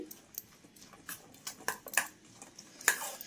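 Spoon stirring a bowl of street-style corn masala chaat with salt and spices, giving scattered scraping clinks of metal against the dish, close and fairly quiet.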